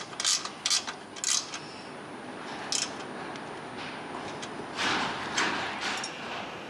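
A ratchet and socket on an extension tightens bolts for an EVO shock in a Jeep JL Wrangler 2.5-inch lift kit install. Short bursts of clicking come in a few spaced strokes over a quiet background, with no talking.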